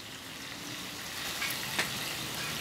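Corn tortillas sizzling on an oiled Blackstone griddle, a steady soft frying hiss heard close and alone, with a couple of faint clicks near the end.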